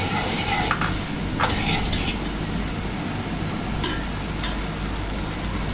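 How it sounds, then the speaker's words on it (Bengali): Vegetables fry in a hot pan on the stove for a toddler's khichuri, giving a steady loud sizzle broken by several sharp scraping stirs of the spoon. "চুলায় সবজিটা একটু ভেজে নেব।"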